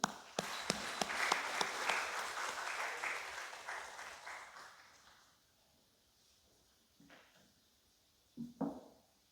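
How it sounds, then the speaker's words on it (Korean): A church congregation at a Sunday service applauds, a burst of clapping that fades out over several seconds, followed by brief faint voices. "우리 박수 한번 다시."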